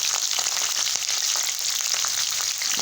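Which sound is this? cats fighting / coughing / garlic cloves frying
garlic cloves frying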